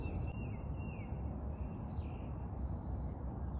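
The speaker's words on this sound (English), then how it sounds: "There are birds playing here." Small birds chirping outdoors near a lake, with a few faint high calls standing out over a steady broadband ambient background, fairly distant and unaccompanied by talk.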